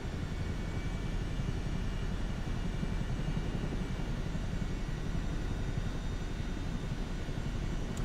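Helicopter flying in Microsoft Flight Simulator 2024 on PS5 Pro, a steady broadband rotor and engine drone that stays even and fairly close throughout, with no voices over it.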